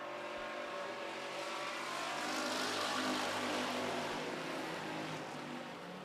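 Racing cars roar past on a track, a sustained engine drone swelling to a peak midway and easing off again, heard from a distance with no talk.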